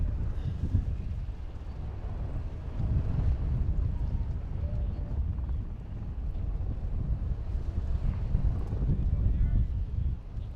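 Steady wind buffets the microphone at an outdoor endurance event, making a continuous low rumble that swells in gusts while someone talks over it.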